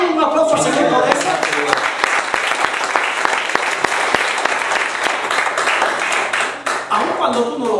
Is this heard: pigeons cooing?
no